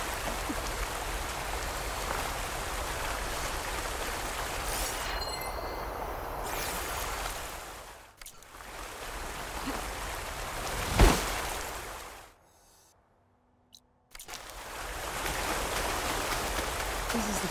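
A waterfall in the video game Horizon Forbidden West gives a steady broadband rush of falling water. It briefly drops out twice, with a short splash or impact in the middle.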